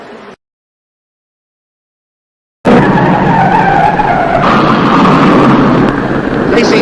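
A NASCAR stock car loses control on the new pavement at Darlington Raceway, a loud sustained roar of engine and skidding tires bursting in after a moment of silence, with commentary running over it.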